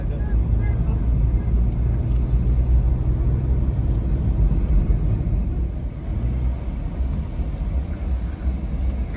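A car drives slowly through heavy Christmas Day traffic on the road to Old Goa, giving a steady, loud low rumble from inside the vehicle with no letup.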